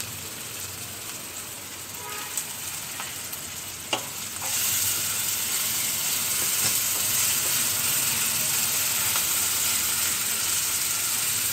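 Green chili paste dropped into hot oil for an amaranthus leaf and chana dal curry, a quieter sizzle that jumps to a loud, steady, hissing fry midway and stays close and constant.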